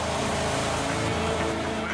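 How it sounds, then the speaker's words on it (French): A car engine with a carburetor part lodged inside runs with an odd, steady roar, loud and continuous throughout, with faint voices underneath. "Le moteur fait un bruit bizarre,"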